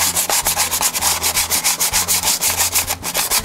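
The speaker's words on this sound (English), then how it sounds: "emery cloth, is a bit like sandpaper. You just basically rub over the edges." Emery cloth rubbed briskly over the edges of a drum brake shoe, a steady back-and-forth abrasive scraping with a quick, regular rhythm, close and fairly loud, with no talking.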